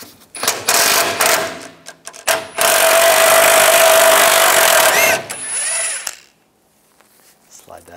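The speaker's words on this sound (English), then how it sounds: "The two bolts out underneath. Use a 21 millimeter socket." A power tool with a 21 millimeter socket runs bumper bolts out of a 2007-2014 Chevrolet Silverado 2500 HD, short loud bursts then a long whirring run, ending in quiet.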